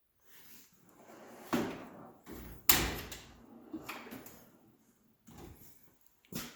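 The metal drawers of a US General tool box slide open and shut several times, with rolling rumbles and sharp clanks as they close, close up and with no talking.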